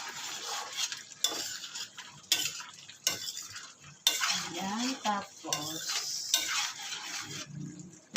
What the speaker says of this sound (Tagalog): Ito guys yung bahaw na tira kagabing kanin. Iinitin ko na lang siya.